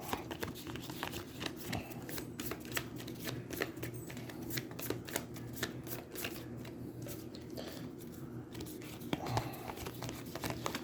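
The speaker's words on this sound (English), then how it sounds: "his card gets shuffled back into the deck" Playing cards from an Aeons End deck being shuffled, a run of quick crisp riffling clicks and soft card slaps repeating steadily at close range, with a faint low hum underneath.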